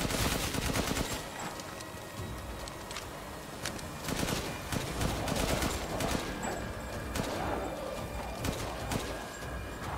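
Gunfire in Resident Evil Village during the Heisenberg and Miranda boss fights, with repeated sharp shots in uneven bursts over a dense, busy game soundscape, no talk heard.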